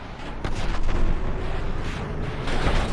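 A rocket explosion in GTA V booms loudly, then its broadband rumble and crackle fills the whole stretch, with sharp bursts near the half-second and one-second marks.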